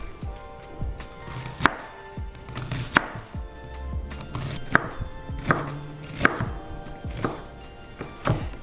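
A knife chops a sweet onion on a cutting board for turkey burritos, with distinct close knocks at a steady, unhurried pace, about one every second.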